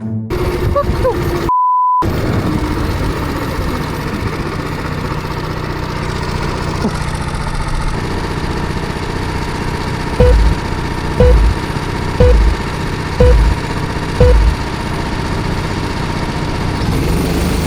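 Racing karts at the start of an indoor Daytona race, engines droning steadily throughout, with a row of five short evenly spaced beeps near the end as the start lights sequence.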